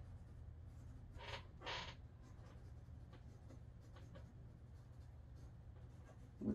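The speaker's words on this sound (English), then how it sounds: "now I have to draw the muscle because his arms are bare" Pencil or pen strokes while drawing the bare-arm muscles of a monster figure, with two short scratchy bursts near the start, then faint light scribbling over a steady low hum.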